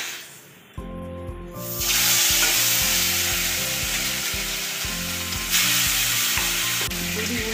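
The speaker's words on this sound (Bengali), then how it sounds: "দুই উল্টে পাল্টে খুব ভালোভাবে ভেজে নিতে হবে।" Small parshe fish fry in hot mustard oil in a wok, bursting into a loud, continuous sizzle and spattering hiss that swells after the first second and keeps going, with rhythmic background music playing underneath.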